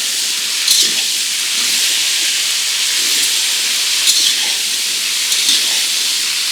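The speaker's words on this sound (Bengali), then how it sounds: "কচুগুলো দিয়ে দিলাম আর কচুগুলো একটু নাড়াচাড়া করছি" Taro pieces dropped into a hot pan of oil and stirred, giving a loud, steady sizzling hiss close by, with faint scraping strokes now and then.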